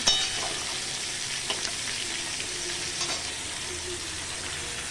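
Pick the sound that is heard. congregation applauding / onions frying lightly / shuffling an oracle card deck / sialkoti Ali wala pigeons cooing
onions frying lightly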